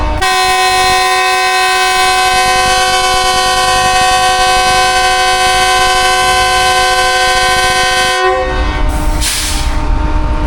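Loud, sustained multi-tone air horn of a GU40 locomotive blasting continuously for about eight seconds as the departure whistle of the 33 Up Business Express, then cutting off into station rumble and hiss.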